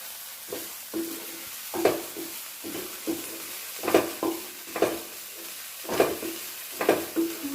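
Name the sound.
dried prawns and dried red chilies frying in a pan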